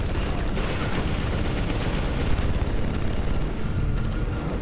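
Gunfire in the Inversion co-op shooter game rattles on nonstop: dense, loud volleys and bursts blend with booming impacts in a continuous barrage.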